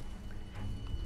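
A horse gallops in the video game Elden Ring: quick, close hoofbeats that are fairly quiet and last about a second over a low, steady game backdrop.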